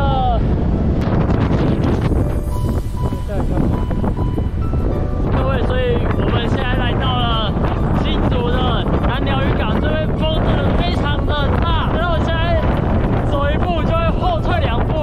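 Strong seaside wind at Nanliao buffets the microphone in loud, continuous roaring gusts, with voices talking intermittently over it.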